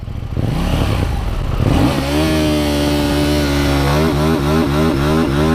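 A KTM 790 Duke motorcycle engine is held at high revs on launch control, a loud steady drone with stacked harmonics that flutters and pulses in quick rhythmic bursts toward the end, close up with no talking.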